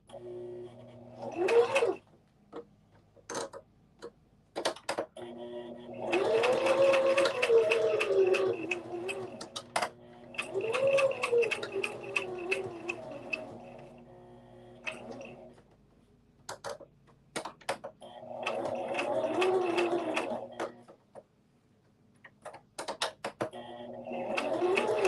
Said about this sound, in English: we're just going to zigzag stitch